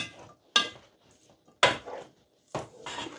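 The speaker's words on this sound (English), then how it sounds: "Just give everything a stir." A spoon knocks and scrapes against a pot of chili con carne in three separate, fairly loud strokes, with near silence between them.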